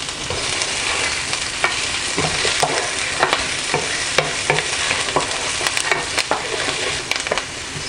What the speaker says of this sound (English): Oil is nice and hot, so in goes the onion.